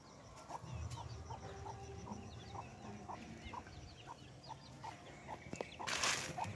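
A hen and her chicks cluck outdoors, with soft, repeated clucks in an uneven rhythm and faint peeping over a low background, ending in a brief burst of louder noise.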